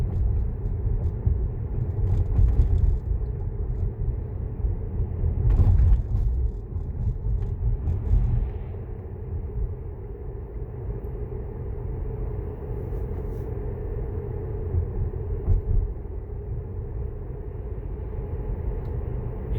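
A Tesla on Autopilot V10 rolls through town with a low road rumble and tyre hum, swelling briefly now and then as it passes other sounds, steady and close from inside the car.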